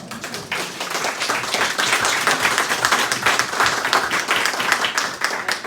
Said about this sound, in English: I would just like us to applaud you because that was a very moving presentation